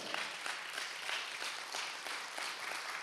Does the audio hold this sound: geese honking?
no